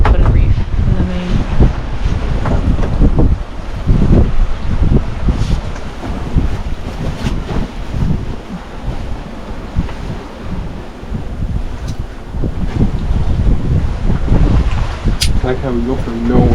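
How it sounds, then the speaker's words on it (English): Strong wind buffets a sailboat at sea, roaring and rumbling heavily against the microphone in gusts throughout, with waves and brief voices beneath. "this wind coming out of nowhere is a blessing, but it was quite strong"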